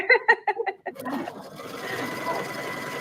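Chirpy voice-like bursts open the moment, then a sewing machine starts top stitching fabric, settling into a steady, fairly quiet mechanical whirr that runs on to the end.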